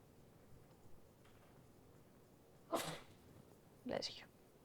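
Two quick sneezes in a lecture hall, one near 2.8 seconds and a second just before 4 seconds, each a sharp burst over a quiet room murmur.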